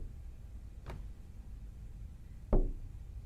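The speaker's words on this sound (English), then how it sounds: "I hear knocking." In the Parasocial horror video game, two separate knocks land on a door, a soft one and then a sharper, louder thud a moment later, over a low ambient hum.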